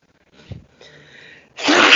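A single sharp sneeze bursts out loudly at the end, preceded by a quick intake of breath and a faint nasal wheeze, close and isolated with no talking.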